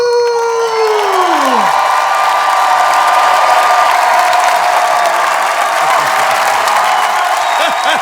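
A studio audience applauds, cheers and whoops loudly for a guest walking onto a French comedy talk show, a steady dense roar lasting the whole stretch, with a falling musical sting fading out at the start.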